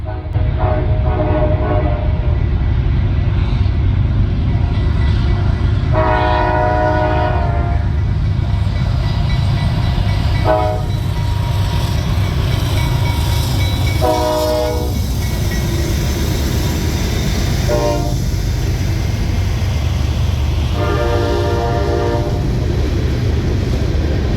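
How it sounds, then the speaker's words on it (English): A 197-car CSX mixed freight train rolls past through downtown on a January evening, its horn sounding in several long blasts over a steady, loud rumble of wheels and cars. "A giant 197-car mixed freight is seen passing through Linworth on a January evening."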